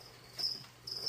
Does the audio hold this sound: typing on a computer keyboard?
no